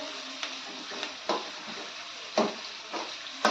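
Chopped onions sauté in a pan for dal khichdi, a faint continuous sizzle broken by a handful of soft scraping stirs at irregular intervals, close by and quiet, with no talking.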